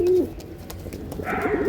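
A pair of pigeons coo close by, with one throaty coo at the start and a rising, wavering run of cooing near the end over faint background noise.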